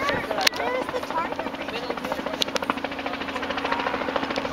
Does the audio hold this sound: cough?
no